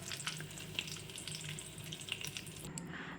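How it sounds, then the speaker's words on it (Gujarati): Vegetable rava appam batter sizzles in a hot pan while a utensil scrapes and stirs with a few soft clicks, quiet and close. "હવે આપણે એકવાર હલાવી દેવાનું છે આને"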